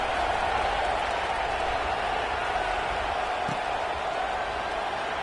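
Steady wash of stadium crowd noise in an American football video game, a constant broad roar with scattered clapping, continuing at an even level throughout.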